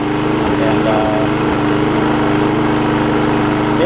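A Murray lawn mower engine runs steadily, loud and close, with a constant buzzing drone and slight rhythmic pulsing at the start, heard alone.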